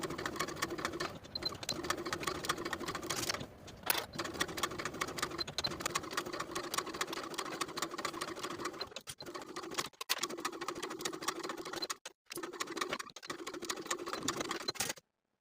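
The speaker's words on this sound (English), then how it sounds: "Then we're going to sew as pinned with a 1/2-inch seam allowance." A sewing machine stitches collar pieces along a curved edge with a half-inch seam, running in a fairly steady soft whir broken by brief pauses near the end, fairly quiet and close.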